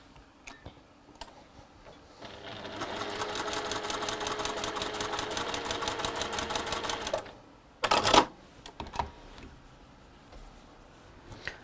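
A sewing machine runs through a quilt seam in one steady, rapid ticking burst lasting about five seconds, followed by handling clatter and a sharp thump, all moderately quiet.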